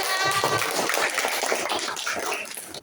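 A classroom of students applauds a student group with dense, crackling clapping from many hands, loud and steady before easing slightly at the end.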